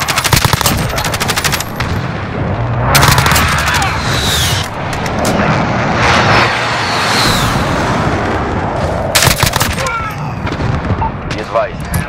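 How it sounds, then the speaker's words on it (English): Heavy explosions and booms from a precision airstrike in a Call of Duty match, mixed with dense machine-gun fire throughout, loud and close, with announcer-style voices speaking over the chaos. "Friendly precision airstrike on the way."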